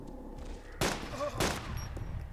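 Two sharp gunshots crack out about half a second apart in the video game DayZ, loud and close over a steady background hum.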